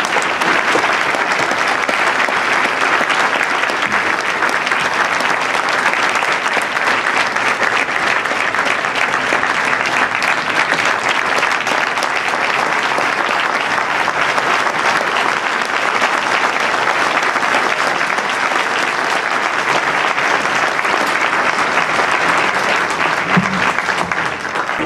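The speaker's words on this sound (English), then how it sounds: "Everyone, please join me in welcoming Garo Paylan." An audience breaks into steady, sustained applause to welcome a speaker at an event in New Jersey, a dense wash of clapping for about twenty-five seconds with no talk over it.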